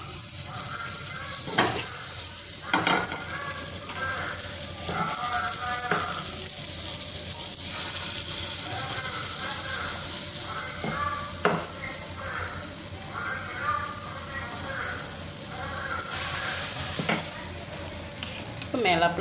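Banana pancake batter frying in a pan, a constant close sizzle running throughout, punctuated by occasional sharp clicks and scrapes of a utensil against the pan.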